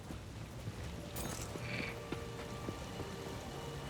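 Frog croaks from the Path of Exile 2 video game, a scattering of short, low croaks over a steady rainy ambience, with a brief higher chirp partway through and no talking.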